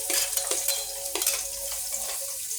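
Chopped onion fries in oil for chicken-feet adobo while a utensil stirs it, producing a continuous sizzle broken by sharp scraping and clacking strokes against the pan, close up with no talking.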